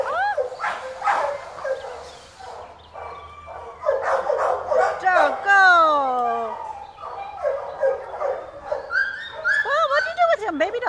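A dog barks, whimpers and yips in a varied, howl-like run of vocalizations, close and fairly loud, with a person talking affectionately in between.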